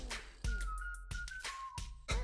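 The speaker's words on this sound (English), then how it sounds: "It's just the same whistle." A whistled melody from a GameToons animation song plays as a series of sustained, clear tones broken by sharp percussive hits, moderately loud and without any voice over it.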